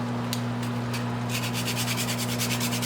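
Fresh nutmeg is grated into pineapple juice for a canned ice cream topping, a run of quick, rhythmic scraping strokes up close over a steady background hum.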